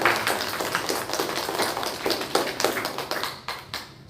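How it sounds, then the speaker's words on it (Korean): A church congregation claps together in a steady, quick rhythm, a dense run of evenly spaced claps in a reverberant hall that trails off near the end. "우리 모든 영광을 박수로 하나님께 올려드립니다."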